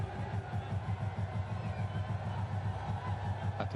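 A large stadium crowd at the Pakistan vs India Asia Cup T20 cricket final, a steady hum of distant massed voices and babble with a faint rhythmic pulse underneath.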